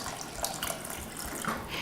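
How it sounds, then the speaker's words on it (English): Water pours from a cup into a pot of simmering beef barley soup, a steady close splashing and running wash that continues unbroken with no talk over it. "So I'm going to go ahead and add about another cup of water."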